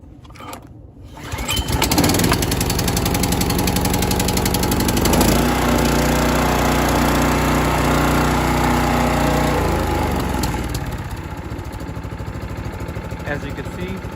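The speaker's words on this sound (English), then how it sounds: "when the engine was started, the choke automatically turned off and it went to full throttle" A Power King 2.8 in. residential direct-drive chipper shredder engine is pull-started with a brief rattle, then roars loudly and steadily at full throttle up close, easing to a lower steady run near the end.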